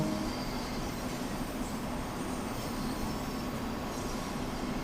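A train running in Train Sim World 2 on the Hamburg–Lübeck main line, a steady, even rumble of wheels and motor with faint squeal, constant loudness throughout and no voices.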